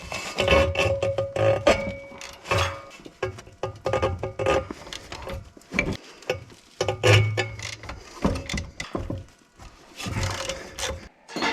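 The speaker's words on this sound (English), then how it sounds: "We're gonna go ahead and just put our ratchet on these guys and pop all these loose." A ratchet loosens bolts on a Subaru wheel hub with rapid, close, clicking and creaking bursts, broken by short pauses and metallic rubbing.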